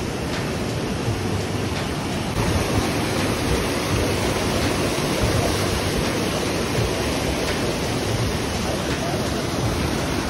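Fast-flowing glacier meltwater stream near a mountain temple on a trek from Solang Valley, a loud, dense and unbroken rushing roar that stays steady throughout.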